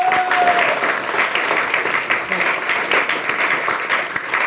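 A studio audience applauds loudly and steadily throughout, a dense wash of clapping with no pauses.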